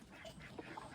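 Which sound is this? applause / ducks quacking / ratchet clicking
ducks quacking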